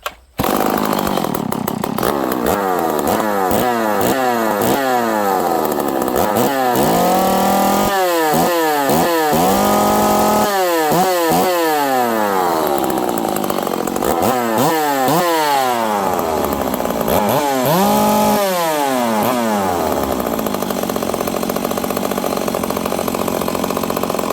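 A ported Stihl 038 Magnum chainsaw, loud and close, repeatedly revved from idle to a high scream and back in a steady series of throttle blips.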